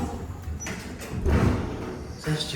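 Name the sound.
Mowrey hydraulic elevator sliding door closing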